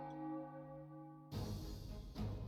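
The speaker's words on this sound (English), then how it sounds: "The bell sounds could be like drums or something." A church bell in the video game The Sunstone Chronicle rings with a long, clear, sustained metallic tone that decays softly, then is cut off abruptly by a dense burst of louder game noise.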